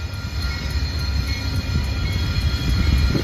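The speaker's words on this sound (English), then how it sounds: "And we got an Amtrak train coming in" Amtrak's Empire Builder passenger train from Seattle rolls in with a loud, continuous rumble that swells toward the end, wheel noise and rail hiss above a deep drone.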